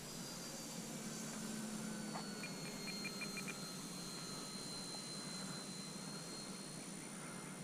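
A Durafly Ugly Stick V2 RC plane flies at about three-quarter throttle, a faint, steady distant motor whine over constant outdoor hiss, with a brief higher tone pulsing partway through.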